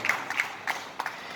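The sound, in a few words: audience applause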